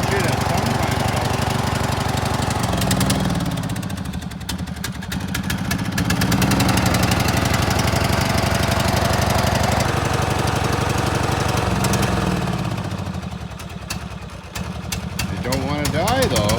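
A John Deere L100 lawn tractor engine running steadily with a throbbing, knocking chug that dips and recovers in intensity, close by, with a person speaking at times over it.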